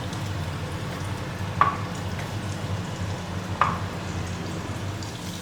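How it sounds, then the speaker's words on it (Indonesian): Soft, steady sizzling of tomatoes frying in a pan, with two brief sharp clinks of a utensil against the pan; no voices. "Kemudian aku goreng tomatnya."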